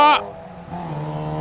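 Rally car on a stage of the Colin Ellmore Memorial Rally 2025, its engine a loud, close, steady drone after an opening burst of higher whine as it goes by.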